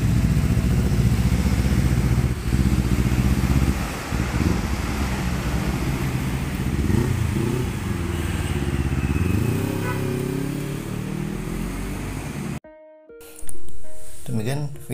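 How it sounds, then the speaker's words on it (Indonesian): A 2012 Kawasaki Ninja 250 twin-cylinder fuel-injected motorcycle idles and revs through a stainless steel silencer, loud and close, pitch rising and falling over several throttle blips before cutting out near the end. "pemasangan silencer paling adem di motor Kawasaki Ninja 250 cc 2 silinder tahun 2012 injeksi"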